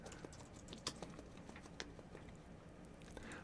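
Computer keyboard typing during music-production software work in Pro Tools, a run of quiet, irregular key clicks close to the microphone over a steady low background hiss, with a few sharper louder taps standing out.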